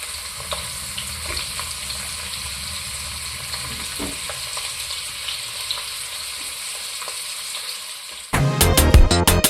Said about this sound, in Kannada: ಟೊಮೊಟೊ ಕೂಡ ಹಾಕ್ತಾ ಇದ್ದೀನಿ